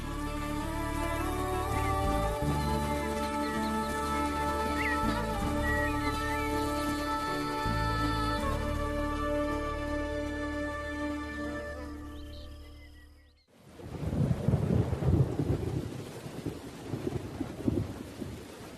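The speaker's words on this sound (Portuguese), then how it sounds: "E a chuva continua durante semanas." Heavy rain pours in the Brazilian cerrado during a thunderstorm, with a dense wash of falling water and rumbling low thunder, first under a layered musical score, then standing out loud and close with strong gusts.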